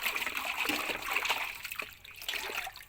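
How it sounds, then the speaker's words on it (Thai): Water splashes and trickles in a basin as fresh herbs are washed, a soft continuous sloshing and dribbling heard close by at low volume. "น้ำก็ใส่กระมังไว้"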